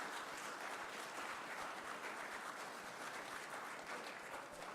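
Meeting attendees at a Durham County commissioners session give a sustained round of applause to staff members, a continuous, even patter of many hands heard from some distance.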